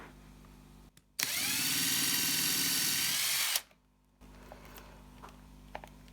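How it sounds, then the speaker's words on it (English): A handheld power drill whirs at close range for about two seconds as it bores a hole into cardboard, a single loud burst framed by quiet handling clicks and no talk. "now I'm just going to drill 4 holes into my piece of cardboard in the"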